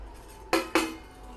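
A metal lid is set onto a cooking pot of chicken biryani, making two quick clanks in a row, close and sharp above faint room hum.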